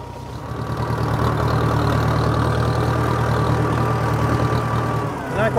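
A tractor engine idling steadily at a farm, a low, even rumble that holds close and constant for several seconds before a brief shift at the end.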